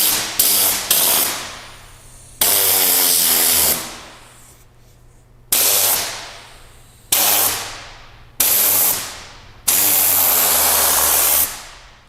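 Tornador Mini air-powered interior cleaning tool blowing debris and moisture out of fabric, rugs and floor mats: loud, close hissing air blasts in about six separate bursts, each cut off sharply, with no talk.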